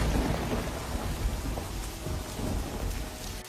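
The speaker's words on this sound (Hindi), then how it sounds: "अचानक आसमान में बिजली कड़कने लगती है और भयंकर बारिश शुरू हो जाती है" Heavy rain pours steadily with a low, rolling rumble of thunder underneath, a dense, continuous storm wash with no voices.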